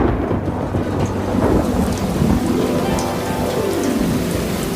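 Heavy rain pours in a dense, continuous wash while thunder rumbles low underneath, a loud steady storm with no voices.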